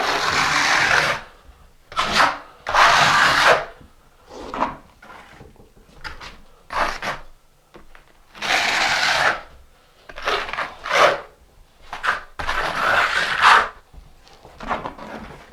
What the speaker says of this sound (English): your trowel that you're going to use to spread the thin set with. Just use the back side, the flat side of it.